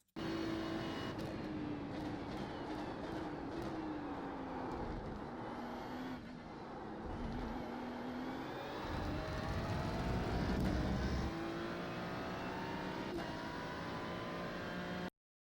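Race car in the iRacing sim taking the Spa-Francorchamps bus stop chicane at full speed, a loud continuous engine roar that drops as it brakes and downshifts, then rises again on acceleration, with no talking.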